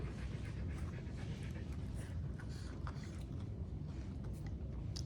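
A dog pants hard and fast in rapid, steady breaths close by, continuous throughout against a noisy background.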